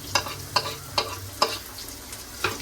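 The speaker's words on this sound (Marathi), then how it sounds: "चांगला परतवून घेऊ लाल होईपर्यंत." Onion, garlic and chillies sauté in a pan for tadka Maggi, a continuous sizzle punctuated by five evenly spaced spatula taps and scrapes; no talking.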